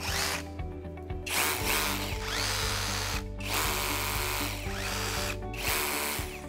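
A cordless rotary hammer drill for concrete runs in hammer mode, its loud, close, buzzing hammering motor broken by short pauses into several bursts, with no talk.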